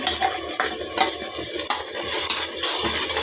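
Ground masala paste is stir-fried in a pan for soybean tomato pulao, with a continuous sizzle and repeated scraping and clinking of a spoon against the pan, close up and without speech.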